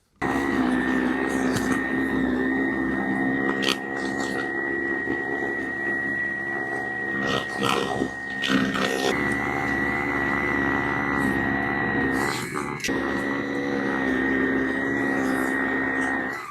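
A Senix 60V battery snow blower throws snow with a constant loud motor whine and a broad rushing hum, running steadily throughout with small shifts in tone.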